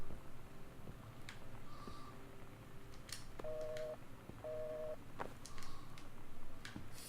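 Faint telephone keypad tones beep in short paired bursts over a hissy, quiet room ambience as a non-working phone is dialed in the game Gone Home.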